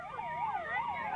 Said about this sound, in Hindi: बहुत एम्बुलेंस आ चुकी है